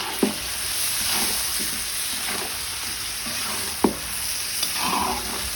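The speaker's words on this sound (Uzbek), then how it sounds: "Go'shtni yaxshi avvalda qovurib qizartirib olamiz" Over two kilograms of beef searing in vegetable oil in a kazan over a campfire for Uzbek plov, giving a steady, even sizzle broken by a few sharp pops.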